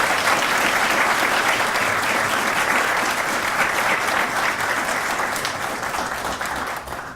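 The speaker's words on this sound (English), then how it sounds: "please give this family a round of applause" An audience claps for a family being honoured at a grand re-opening. The applause is dense and steady, filling the room without pause before it slowly begins to fade at the end.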